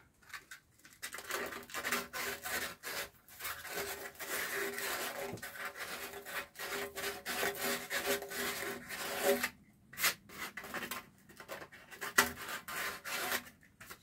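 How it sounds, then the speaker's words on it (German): Repeated rasping strokes of hand sanding smooth a few spots on a surface before painting, near and steady. Brief pauses break the strokes, and no one speaks. "Hier vielleicht noch ein paar Stellen ein bisschen schleifen."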